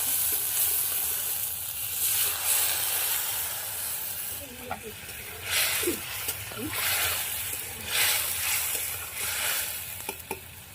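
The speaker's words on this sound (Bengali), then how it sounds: "জল দিয়ে দিচ্ছি" Water poured into a wok of hot oil holding black cumin, ground mustard paste and chilli bursts into loud hissing and sizzling, with steam and stirring bursts rising and fading over several seconds while a voice speaks.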